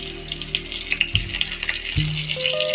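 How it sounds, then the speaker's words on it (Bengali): Green chillies dropped into hot oil left from frying potatoes, a loud close crackling sizzle with sharp bursts around each addition and stirring scrapes. "এবারে ওই তেলের মধ্যে প্রথমে দিয়ে দিচ্ছি কাঁচা লঙ্কা ফোড়ন"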